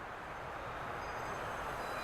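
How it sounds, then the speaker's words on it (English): A train roars past in the Duet Night Abyss video game, a steady, dense rumble holding near and loud for the whole stretch with no voices. "I loved watching the trains roar by"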